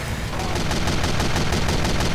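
Rapid automatic weapon fire from the video game Team Fortress 2, a dense, steady stream of evenly spaced shots that runs loud and unbroken throughout, with no talk over it.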